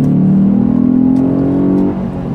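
A Lexus IS250 engine revs loudly and close up during a paddle-shift downshift, a strong sustained droning roar whose pitch climbs slightly before easing off near the end.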